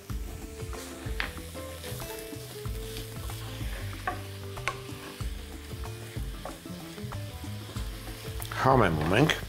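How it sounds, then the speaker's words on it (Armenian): Minced meat sizzling as it is added to frying ingredients in a pan, with a spoon stirring and scraping steadily throughout and clinks against the pan. "Աղացած միսը լցնում ենք տապակվող բաղադրիչների վրա։"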